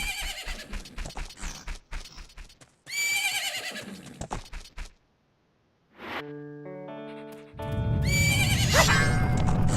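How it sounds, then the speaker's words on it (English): Epona, the horse in the video game Zelda: Majora's Mask, clip-clops along, then gives loud, close, processed-sounding neighs and whinnies, with short musical jingles and a brief silent gap between. "This is our horse."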